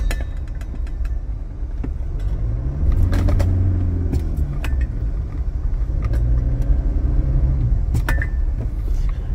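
A thermos bottle rattles loose inside the cab of a moving Toyota Hilux, with several quick knocks and clatters over a steady road and engine rumble.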